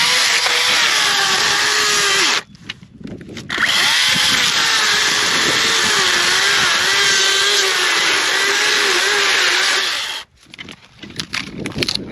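A chainsaw cuts juniper firewood logs, running loud and close in long sustained bursts that drop out briefly twice as the engine idles.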